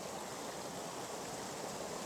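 A morning waterfall rushes steadily near mossy rocks, an even broadband wash of flowing water that stays constant and moderately quiet with no voices.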